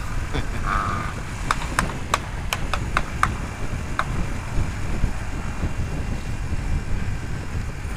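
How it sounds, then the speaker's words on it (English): Several sharp pops crack out from a Suzuki DR250 motorcycle's backfiring exhaust in a quick irregular series over steady rumbling road and wind noise, then one last bang after a pause. "Some exhaust noise. Like I've been fired at."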